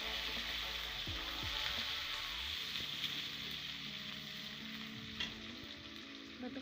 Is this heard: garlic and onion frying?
yes